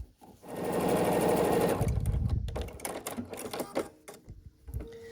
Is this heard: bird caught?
no